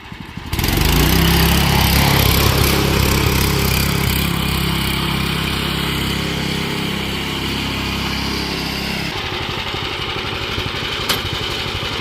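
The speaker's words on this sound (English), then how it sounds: "I can do a burnout." Lawn tractor go-kart engine revving hard during a burnout, a loud, steady, close-up roar that holds for about ten seconds before dropping to a rougher idle-like chatter.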